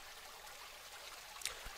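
Waterfall ambience in the hidden-object game Grim Tales, a soft, continuous rushing of water kept faint and distant, with a brief splashy flutter near the end.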